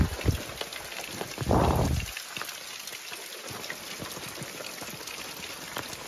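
Heavy monsoon rain in a Konkan village drums steadily on surfaces nearby, with a brief louder burst of splashing early on, and the downpour continues without voices.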